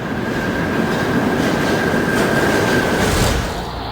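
A New York City subway train rumbles loudly up close, a dense continuous roar of wheels on rails with a faint squeal running through it.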